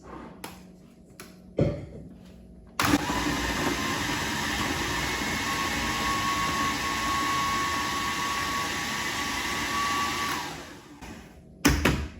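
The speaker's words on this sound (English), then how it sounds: "pop in the chopped cold butter, and then we're just going to give it a little bit of a whiz" A food processor whizzes chopped cold butter into flour for homemade pie pastry, a loud, steady motor whir running about seven seconds after a few short clicks, then winding down, with brief bumps at the end.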